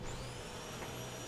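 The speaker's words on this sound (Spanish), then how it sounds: "El ritmo de la aspiradora." A vacuum cleaner runs with a steady, whining motor drone and a thin high tone on top, faint and unbroken throughout, with no speech over it.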